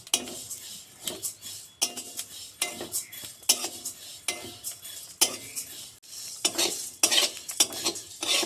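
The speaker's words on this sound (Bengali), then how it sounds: "সবকটা মশলা কিন্তু অল্প আঁচে ভাজতে হবে বেশি আঁচে ভাজলে পুড়ে যাবে" Whole spices are dry-roasted in a pan over low heat for a homemade rohu and mrigal fish masala, with a utensil scraping and stirring in quick, regular strokes and the dry seeds rattling close up.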